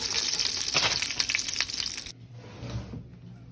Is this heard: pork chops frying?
yes